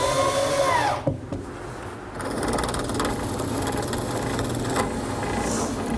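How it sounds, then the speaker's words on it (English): A power drill bores holes in a wooden drawer front for a handle, a loud, sustained whirring that drops out briefly, then settles into a steadier running drone. "Here I'm drilling holes in the drawer front for the handle."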